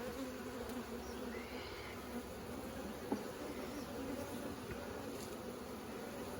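Honey bees hum in a steady, quiet drone while nucs are installed, a continuous buzz with a faint tap partway through.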